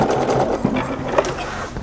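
A sewing machine stitching through the layered fabric of swim trunks, running steadily and close with a continuous buzzing whir and a couple of small clicks.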